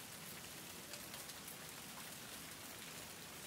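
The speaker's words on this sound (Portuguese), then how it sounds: "Agora só tá serenando." Light drizzle falls in a flower garden as a steady, soft, even hiss of rain on leaves and surfaces, faint and unbroken throughout with no talk.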